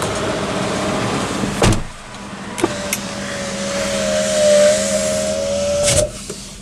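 A car door on a 2019 Honda City ZX shuts with a sharp thud near the end, after a few lighter clicks and knocks and a steady background hiss with a long whistling tone.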